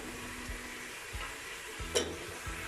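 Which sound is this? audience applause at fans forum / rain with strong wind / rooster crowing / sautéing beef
sautéing beef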